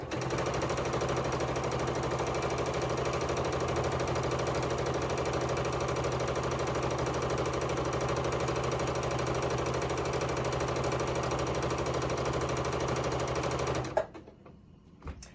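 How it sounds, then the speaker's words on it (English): A sewing machine runs steadily, stitching quilt fabric on a quarter-inch seam setting. The loud, even mechanical whir continues nonstop for about fourteen seconds, then stops abruptly, leaving brief quiet handling noise. "we are just going to stitch right along this line"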